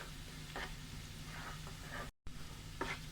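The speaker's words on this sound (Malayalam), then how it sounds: "ഇനി ഇതിൻ്റെ പച്ചമണം മാറുന്ന വരെ നമുക്കൊന്ന് വഴറ്റിയെടുക്കാം." Shredded banana blossom is sautéed in coconut oil with occasional stirring, giving a soft, low sizzle that briefly drops out before resuming with light scraping strokes.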